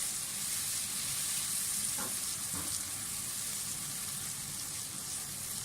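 Masala with three to four mashed tomatoes frying in a pan for gola kabab gives a steady, close sizzle, with a couple of brief stirring scrapes partway through and no talk.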